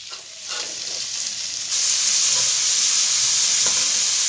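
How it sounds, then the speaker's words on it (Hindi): Vegetables sautéing in ghee in a kadhai for fajita chicken give a continuous close hiss and sizzle that jumps louder partway through as the pan is stirred, with no voices over it. "साथ ही हम तमाम वेजिटेबल्स को इसमें शामिल कर देंगे और इसको सौते करेंगे।"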